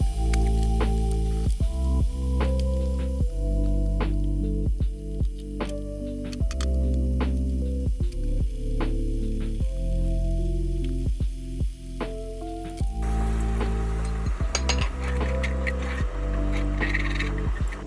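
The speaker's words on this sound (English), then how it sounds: "we're gonna add the veggies, the pre-cut veggies, back to the frying pan. We're gonna let it saute for 1 to 2 minutes." Pre-cut vegetables sautéing in a frying pan used earlier to fry snapper for brown stew fish, a steady close sizzle with frequent clicks and pops over a continuous hum, no talk.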